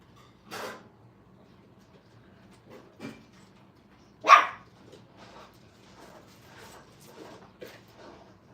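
Five-week-old Brittany puppies bark and yip in short scattered bursts while playing rough, one sharp louder bark standing out among fainter yaps and growls at close range.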